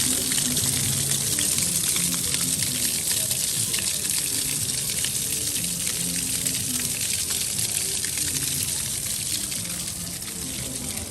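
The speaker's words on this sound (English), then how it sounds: "if you like the sounds of the waterfalls" Waterfall splashing inside a cave at Disney's Animal Kingdom, a continuous close hiss and patter of falling water that holds steady with no talk over it.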